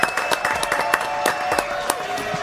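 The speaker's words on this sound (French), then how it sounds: "On va faire un applaudissement pour Angélique qui a gagné." Brief burst of studio applause for a contest winner on a French television show, scattered claps rising and fading over a low room hum, fairly close.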